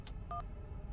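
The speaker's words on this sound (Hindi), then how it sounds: "कोई फोन नहीं उठा रहा है। उस विदेशी लड़की को फोन करता हूं।" Two short touch-tone dialing beeps from a telephone being dialed sound close and clear, one near the middle and one cut off at the end, over a low background hum with no voices.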